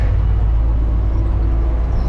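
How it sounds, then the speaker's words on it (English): Heavy front-load garbage truck running its packer compactor after a dumpster pickup, a steady loud low diesel rumble and hydraulic drone close by, unbroken and with no talking. "Pack the garbage truck."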